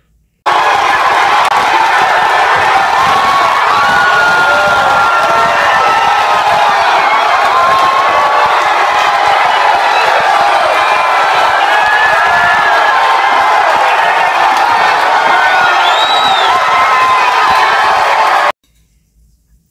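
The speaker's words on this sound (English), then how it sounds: "And the crowd goes wild." A large crowd cheers and whoops loudly and steadily for about eighteen seconds, with shouts and high squeals rising above the dense roar before it cuts off abruptly.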